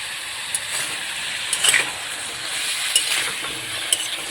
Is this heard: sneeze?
no